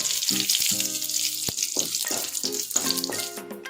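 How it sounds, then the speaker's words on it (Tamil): Crushed garlic, curry leaves and two dried red chillies frying in hot oil for lemon chutney, a bright crackling sizzle with a few stirring scrapes, close and continuous. "பூண்டு நல்லா பொரிஞ்சு வந்ததும் கருவேப்பிலையும் 2 வரமிளகாவும் சேர்த்துக்கலாங்க"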